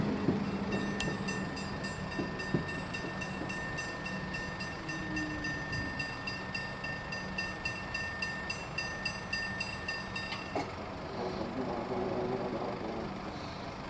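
A train rumbles through a level crossing at Aircraft Station, a steady rhythmic clatter of wheels over rail joints while a crossing bell rings for much of the pass, fairly close and loud.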